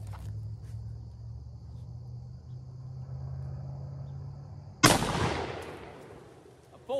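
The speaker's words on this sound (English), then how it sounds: "Now let's get that last shot." One loud, sharp rifle shot from a civilian Browning BAR MKII chambered in .30-06 cracks out after a stretch of quiet outdoor hum and insects, its echo decaying over about two seconds before a brief click.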